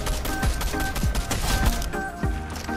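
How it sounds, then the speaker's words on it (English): Gunfire in the Fortnite battle royale game, several sharp low-thumping shots spaced about half a second apart over a steady bed of game sound. "They've only seen one person shooting."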